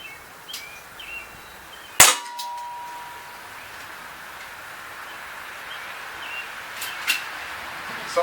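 A Daisy Powerline 5501 blowback CO2 BB pistol fires one sharp, loud pop with a brief metallic ring, followed by quiet outdoor background with faint rustling.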